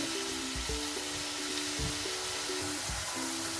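Chicken mince frying in a pan, a dense continuous sizzle up close with occasional low stirring thumps and a faint steady hum beneath.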